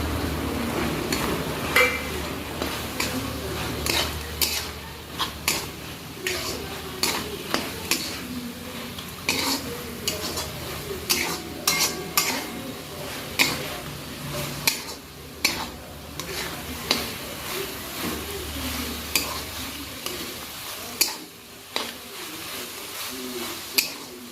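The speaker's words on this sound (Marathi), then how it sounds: "व्यवस्थित असं परतून घ्यायचं आहे आपल्याला शेंगदाणा कूट टाकल्यावर" Spring onion greens and coarsely ground peanut powder are stir-fried in a pan, with a spatula scraping and clinking steadily against the metal throughout and a faint sizzle underneath.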